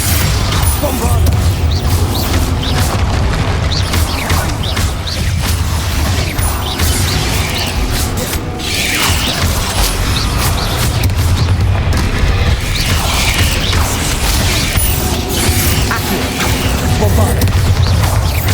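Bombarda spell blasts in Hogwarts Legacy boom loudly and repeatedly over dense game noise, with mechanical clanks, crashes and creaks layered on top and spoken voices mixed in.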